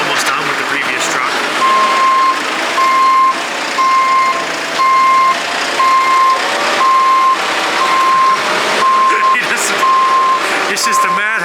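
A semi truck backs up at a hay operation, its reversing alarm beeping in a steady, evenly spaced series over a rumbling engine, loud and close, with people talking throughout.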